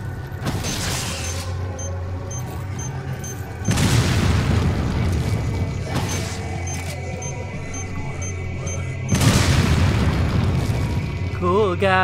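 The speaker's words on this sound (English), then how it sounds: "Cool guys don't look at explosions." Loud booming blasts from a Resident Evil 4 game erupt in bursts, a big hit near the start and further heavy booms around four and nine seconds, over a constant rumbling game soundscape.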